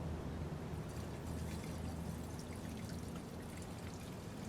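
Gasoline pours from a gas can into a lawn mower tank, a steady gurgling, splashing stream that runs continuously at close range with no talk.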